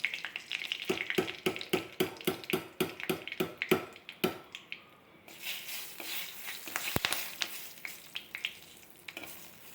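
Curry leaves and green chillies crackle and spit in hot coconut oil with mustard seeds for a tempering, sharp rapid pops at first settling into a steady close sizzle.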